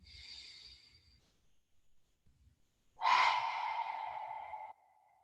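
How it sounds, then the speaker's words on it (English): Slow breathing during a gentle yoga flow, a soft exhale trailing off, a pause, then a long, loud breath out through the mouth lasting over a second, close and alone. "Big inhale through the nostrils. Letting it out through the mouth."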